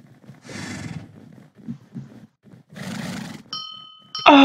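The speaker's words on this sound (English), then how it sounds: "And the horse." Horse neighing in a video game, two drawn-out whinnies separated by soft hoof-like knocks, followed by brief electronic game tones.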